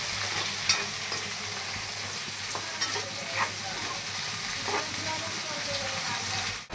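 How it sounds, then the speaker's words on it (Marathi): Peas and bell pepper fry with browned onion in a pan, giving a steady, close sizzle with occasional scrapes of stirring. "आता याला आपण छानसं भाजून घेऊया 5 मिनिटं."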